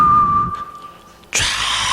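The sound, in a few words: person whistling, imitating a shepherd calling sheep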